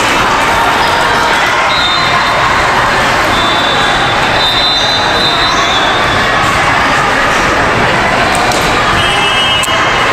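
Constant loud crowd noise from an indoor volleyball tournament: shouting, cheering parents and players in a big gym, with faint whistles now and then, going on without a break from start to end.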